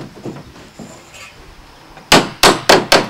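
Four sharp, loud hammer knocks in quick succession as wooden pieces of a cricket rearing box are tapped into place, preceded by quieter handling sounds.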